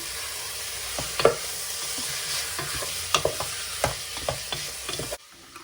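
Szeged goulash being stirred after black pepper goes in, a low simmering sizzle with a handful of distinct spoon knocks and scrapes against the pot, ending abruptly, with no one talking.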